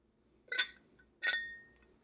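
Two bright clinks of a fancy drinking glass being handled, about a second apart, the second one ringing on briefly before fading; close by in a quiet room with no talking.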